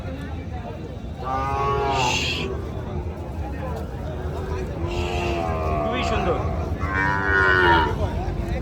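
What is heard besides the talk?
Sahiwal cattle mooing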